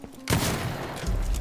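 A pistol shot in Dishonored 2, a loud sudden blast that cuts in after a quiet start and rolls into a dense rumbling tail, with a second low thump near the end.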